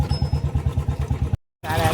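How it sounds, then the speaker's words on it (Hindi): A repaired Hero motorcycle engine runs at a close, steady idle with an even, rapid thumping pulse, then cuts out briefly before resuming. "ये देखो आप, ये गाड़ी स्टार्ट हो चुकी है"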